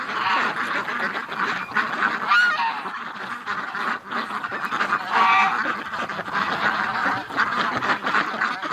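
A noisy flock of courting ducks calls continuously, with honking and quacking overlapping from several birds at close range.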